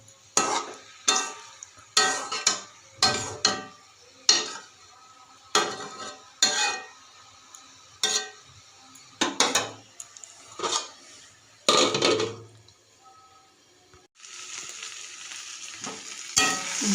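A spoon stirs boiled potatoes and cabbage in a pan over low heat for a Bengali vegetarian cabbage ghonto. The scraping strokes come in a steady, repeated rhythm, each one with a soft sizzle, and a brief quiet hiss follows near the end.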